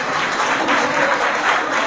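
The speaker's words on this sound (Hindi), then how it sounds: "तालियां बजाओ।" Audience applause at a political gathering, a dense burst of many hands clapping in a loud, steady wash for about two seconds.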